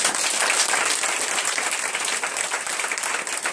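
A church congregation at a Sunday worship and praise service claps and applauds to acclaim Jesus, a loud, steady wash of many hands sustained for the whole stretch without letting up.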